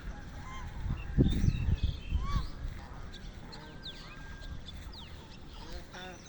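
A flock of ducks calls in a rural spot by the water, with repeated honking quacks of moderate loudness, busiest early on and then continuing more sparsely over a low outdoor background.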